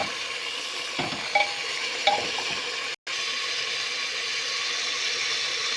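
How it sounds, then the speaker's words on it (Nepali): Curry with spices, salt, tomato and bay leaf being stirred in a pan, with steady close sizzling and a few scraping clinks of the spoon against the metal. "अब चाहिँ टमाटर र तेजपत्ता पनि राखेँ। अब चाहिँ यसलाई राम्रोसँग चलाउने।"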